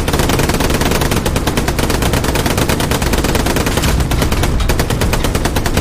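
Sustained machine gun fire in Hell Let Loose, a rapid continuous stream of loud close shots with a steady rhythm, alone with no talk.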